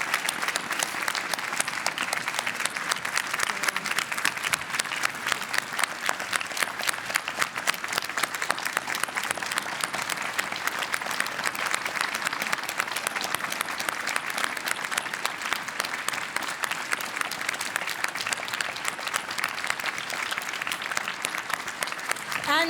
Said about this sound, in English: And big applaud also to our other winners, which is Sarah and Adi